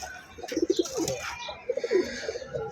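Pigeons in a loft give soft, throaty coos in short repeated bursts, two clusters close by, with a faint bird chirp and light rustling between them.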